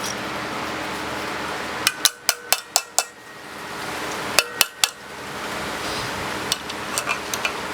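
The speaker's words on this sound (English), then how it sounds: "What I just did there is I basically hit the side of the valve spring, because these keepers sometimes get stuck" Sharp metallic taps on the side of a car engine valve spring during disassembly: a quick burst of five strikes, then three more, then lighter taps, close over a steady background hum.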